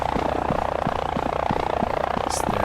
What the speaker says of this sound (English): Sounds like a very annoying, very bad sound effect for a helicopter.